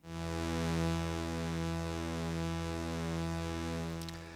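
A sustained synthesizer tone recreating a track, programmed on DRC with reverb, holds steady rich harmonics and a gentle slow wobble for about four seconds before trailing off.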